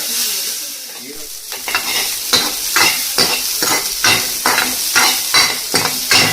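Onions fry in a home pan, a loud hiss broken by a regular series of about ten scraping stirs, each a short swelling burst of crackle, close and without talk.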